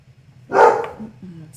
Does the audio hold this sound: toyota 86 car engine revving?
no